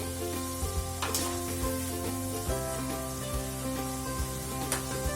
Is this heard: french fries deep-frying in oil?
yes